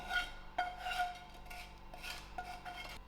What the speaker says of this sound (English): I'll scrape off all my masala that's in the frying pan.